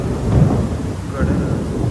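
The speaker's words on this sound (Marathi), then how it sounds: "पूर्ण काही पाऊस जोरात आलाय" Heavy rain with thunder, a low rumbling roll under a dense, steady wash of rain, loud and close over two seconds.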